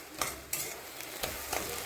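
Ivy gourd frying with egg in a pan sizzles steadily while a utensil stirs and scrapes it in four or five close, rhythmic strokes, with no talking.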